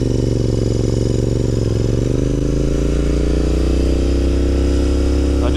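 A Continental GT 650 Twin motorcycle engine thrumming loud and close at a steady rumble, its pitch dipping briefly and then climbing slowly, with wind rush over it and a voice talking underneath.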